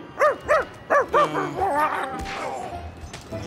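A cartoon dog barks in a quick rhythmic series of four or five sharp yaps, then drifts into whining, whimpering sounds, with faint voices and other effects behind.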